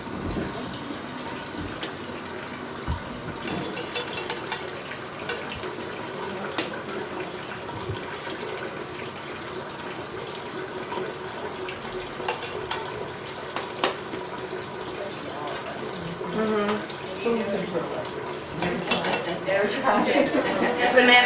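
Hot water poured and splashing into a pan already at the boil, a continuous running, gurgling flow with clinks and stirring over about twenty seconds, growing louder toward the end.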